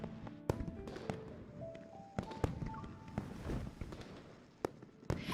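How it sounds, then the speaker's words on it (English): Fireworks in a video game scene crackle and pop in scattered, sharp bursts over a muffled background, a sequence of irregular bangs at a moderate distance with no talking. "The fireworks are too loud."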